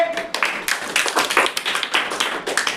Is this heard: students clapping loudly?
yes